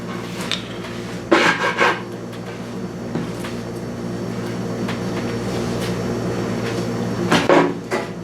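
A scraper drags heat-softened paint off a wooden cabinet door in a few rough, rasping strokes over a constant droning hum.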